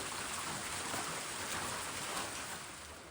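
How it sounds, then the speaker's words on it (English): Steady rain patters on the roof of Brown Creek Shelter on the Ouachita Trail, a dense, even hiss with no pauses or voices. "Don't worry, still raining a little."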